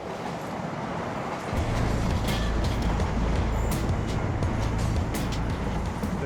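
A passenger train on the East Coast railway in Britain pulls through a station, a deep rumble that starts suddenly and holds loud and steady, with metallic squeals and clatter above it and no talk.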